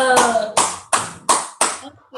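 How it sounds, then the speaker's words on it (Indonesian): Children at a Sunday school clap their hands in a slow, even run of five loud claps, with a voice beginning under the first clap before the claps continue alone. "Tepuk tangan buat Tuhan Yesus."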